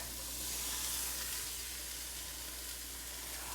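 Pineapple slices sizzle on a hot grill griddle, a dense, even hiss that holds steady throughout at close range with no talking.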